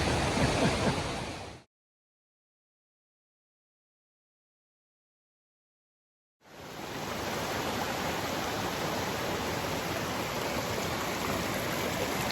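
A creek and waterfall rush steadily in the cold Georgia wilderness, a loud continuous roar that cuts out briefly for a few seconds of silence, then resumes.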